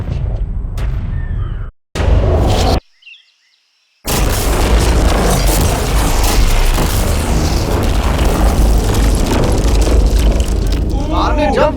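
A bomb blast goes off near a car, a loud boom with a sustained roaring rumble and debris noise after a brief gap of silence, mixed with other clamour and some voices.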